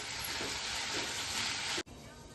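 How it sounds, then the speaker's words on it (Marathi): Capsicum (bell pepper) sautéing in a pan over medium heat: a dense, even hiss of sizzling that cuts off abruptly near the end, leaving a quieter sizzle. "थोडे डाग येईपर्यंत परतूया."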